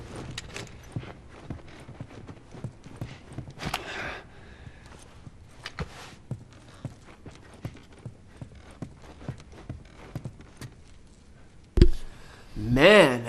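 Horse hooves clip-clop at a steady walking pace in the video game The Last of Us, a soft rhythmic series of moderate hoofbeats running throughout, joined by a few louder sharp sounds near the end.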